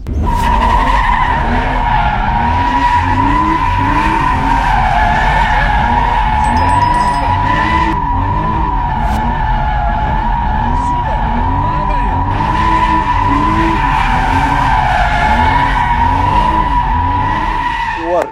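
A car drifts with tires squealing continuously and loudly up close, while the engine revs rise and fall in a steady rhythm beneath the screech.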